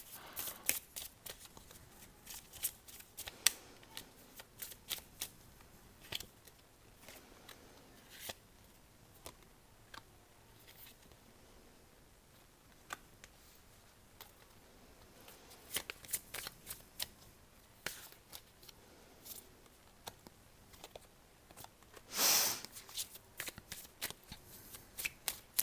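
A deck of cards being shuffled close by but quietly, with soft intermittent riffles and flicks spread over the span and a sharper, louder burst of shuffling near the end.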